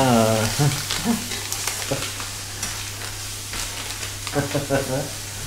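Bacon frying in a pan with plenty of fat, a steady sizzle running throughout with brief clattering stirs and scrapes, while people talk intermittently over it.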